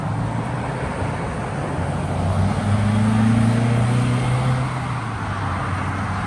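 A modified Ford 5.0 Mustang rolls up with a steady, broad engine rumble that swells toward the middle as it draws near, then holds, heard alone without talk.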